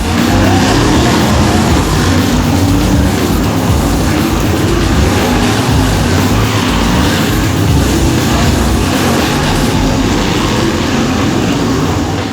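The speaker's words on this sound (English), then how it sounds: "A spin out is quickly and expertly recovered by number 35, Van Heerden." Race cars racing on a track, with one car spinning out and recovering. A loud, steady roar of engines runs unbroken through the clip, dense and close, with no pauses or speech.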